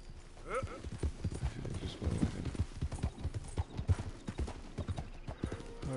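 Rhythmic clip-clop of horse hooves trotting in Red Dead Redemption 2, fairly close, with a brief whinny and some voices in the background.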